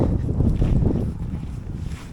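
Strong wind buffets the microphone during a perch fishing trip, heavy, low rumbling gusts, loud and continuous, with a faint watery hiss in the background.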